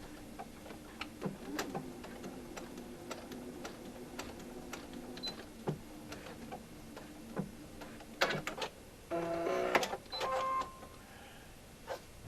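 Brother sewing machine stitching a seam, a faint, close whir with rapid ticking clicks and a louder mechanical burst near the end, with no talking.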